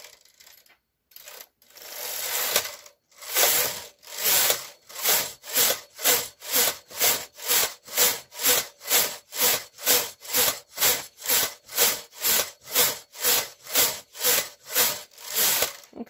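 Knitting machine carriage sliding back and forth across the needle bed to knit rows for a glove finger, a steady run of regular rasping strokes about every half second, close and loud, with no talk.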